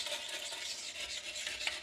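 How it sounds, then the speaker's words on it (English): A toilet bowl being scrubbed hard with a pumice stone, a continuous close gritty rasping with rapid back-and-forth strokes and no speech. "now at this point, you need to do a little bit of a harder, more thorough scrubbing"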